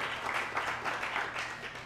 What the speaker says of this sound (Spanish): otro aplauso ahí